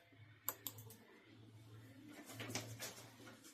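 A few sharp, quiet clicks from someone playing a computer game, scattered irregularly over a low steady hum.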